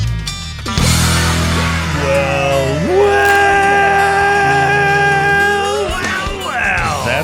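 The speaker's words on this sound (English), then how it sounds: "That's the sound of a party just about to start." Loud party crowd cheering, whooping and yelling together, voices swelling and sliding in pitch, with a burst of sound at the start and a rowdy shouted ending.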